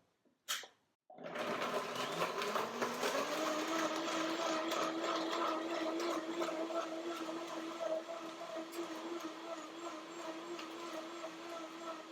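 A blender motor whirs steadily and loudly after a brief click, with a grinding, rattling tone that holds for several seconds as it blends salad dressing with cashews and pepper.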